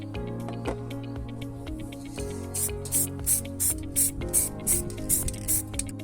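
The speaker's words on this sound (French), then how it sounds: "Nous allons maintenant peindre la coque à la bombe afin de la protéger et de la rendre un peu plus discrète." An aerosol spray can hisses in a series of short, close bursts as a camera trap case is painted, preceded by a few faint taps and handling sounds.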